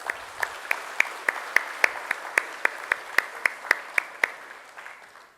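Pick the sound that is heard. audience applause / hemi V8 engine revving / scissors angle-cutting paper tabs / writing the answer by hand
audience applause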